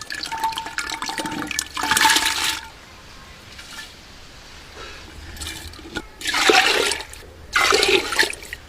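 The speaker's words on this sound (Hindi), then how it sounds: "हांडी में डालेंगे पानी।" Water poured into a cooking pot for dal, heard in several loud splashing, gushing bursts separated by quieter pauses, close and with no talking.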